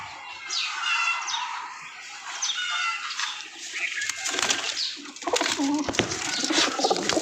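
Group of pigeons at close range, soft murmuring coos and chirps give way to bursts of wing flapping and clattering near the end, no speech.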